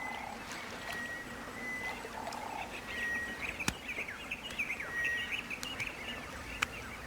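Fishing birds, among them yellow-billed storks, call around a shrinking river pool where fish are trapped in the shallows. Thin whistles and chirps repeat over a busy, croaking wild chorus, with a few sharp clicks and no voices.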